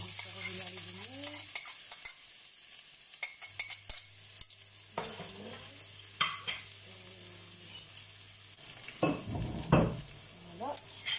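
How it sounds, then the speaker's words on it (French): Onions frying in about three spoonfuls of oil in a pan, with a steady soft sizzle under scattered stirring scrapes and clicks, a low hum running through, a few louder utensil knocks near the end. "je vais faire revenir les oignons"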